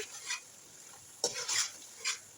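Half a kilo of prawns stirred into a thick spiced masala in a pan, heard as three brief scraping strokes of a spatula over a faint, quiet background.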